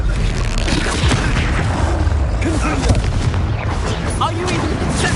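Fiery spell blasts, Confringo and Incendio, go off in a Harry Potter video game, rendered as dense, loud booming explosions that keep coming throughout. A voice shouts spell names over the din.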